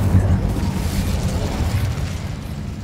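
Incendio fire spell bursting in the Hogwarts Legacy video game, a steady loud rumbling roar of flame with heavy low boom that holds for a few seconds.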